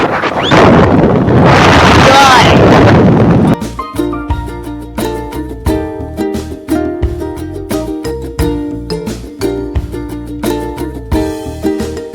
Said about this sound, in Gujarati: તમારા જોઈ શકો છો રોદાર પવન આવે છે